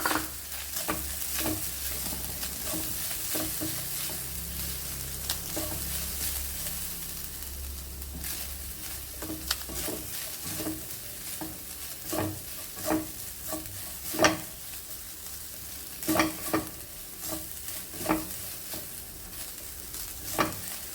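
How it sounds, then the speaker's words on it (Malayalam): Grated coconut roasting in a pan for sweet rice goli, a soft continuous sizzle with repeated scraping stirs that come quicker and sharper in the second half. "1 കപ്പ് തേങ്ങ, ചിരകിയ തേങ്ങ ഇതും കൂടി ഇട്ട് നന്നായി ഒന്ന് മൂപ്പിക്കാം"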